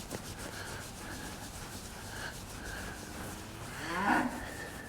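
A pregnant dairy cow on a farm, being scratched, gives a low moo late on over a steady background of rubbing and ambient noise; no talking.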